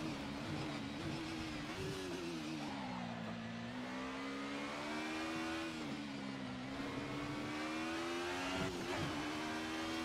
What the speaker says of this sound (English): Just get on the throttle, get good momentum out.